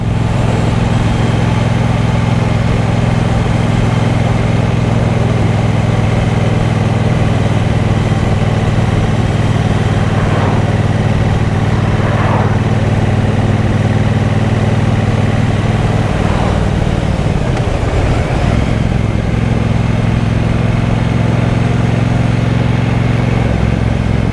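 A 2023 Triumph Bonneville Bobber 1200 engine rumbles loud and close while riding, a steady low drone that briefly shifts in pitch partway through before settling again.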